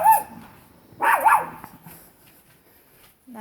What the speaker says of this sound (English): That's my chihuahua just barking at someone going underneath the balcony